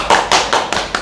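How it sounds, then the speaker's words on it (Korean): A few sharp hand claps from a small audience, about five separate bursts in quick succession, welcoming a guest introduced as a former national-team canoe athlete. "박수로 환영합니다"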